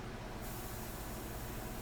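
A steady airbrush sprays India ink onto a portrait, held back at a distance for soft, wide edges: an even, continuous hiss of air, close and fairly quiet, with no talk.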